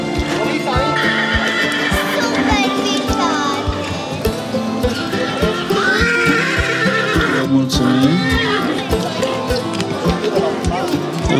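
Friesian horses neigh repeatedly at an outdoor horse beauty show in Osorhei, Bihor, their whinnies loud over steady clip-clopping hooves, with a crowd murmuring and an announcer speaking throughout.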